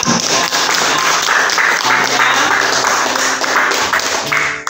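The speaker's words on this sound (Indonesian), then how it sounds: "berikan tepuk tangan untuk teman kita" Students clapping in a classroom, a lively burst of close, loud hand claps that runs steadily for several seconds, with some faint voices mixed in before it tapers at the end.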